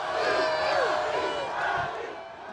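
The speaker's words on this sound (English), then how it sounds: "the crowd went wild for Bobby Portis" A stadium crowd at a Milwaukee Bucks basketball game roars wildly for player Bobby Portis, a loud, sustained wall of cheering and shouting that stays strong for a couple of seconds before easing slightly.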